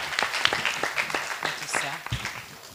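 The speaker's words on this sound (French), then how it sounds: "Est-ce qu'on peut l'applaudir bien fort, les amis?" A children's show audience claps for a child, with loose scattered clapping mixed with voices and chatter, moderately loud and fading slightly toward the end.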